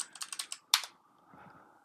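Keys clatter on a computer keyboard while Arch Linux is being set up: a quick run of about six close, crisp keystrokes, one harder strike, then near quiet with faint low rustling.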